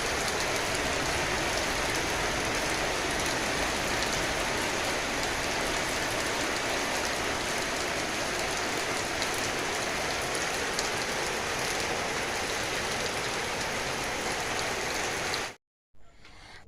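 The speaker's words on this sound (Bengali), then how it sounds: "কি হারে বৃষ্টি" Heavy rain pours steadily in a dense, constant hiss, loud and close, with no voices, cutting off abruptly near the end.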